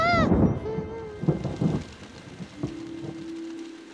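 Cartoon storm with steady rain hiss and low rumbling thunder, a rising tone and musical cues over it, ending in a sustained low hum; a brief voice-like sound early on.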